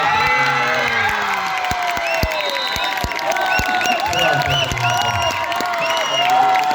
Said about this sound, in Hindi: उनके लिए तालियां बज रही हैं